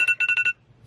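A phone alarm goes off with a quick burst of about five bright electronic beeps in half a second, close and clear, then falls quiet.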